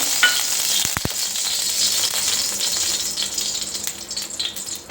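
Oil sizzles steadily in a kadai that was just used for frying peanuts, a continuous close hiss with a couple of sharp metallic clinks early on.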